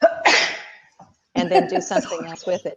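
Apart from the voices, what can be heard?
sneeze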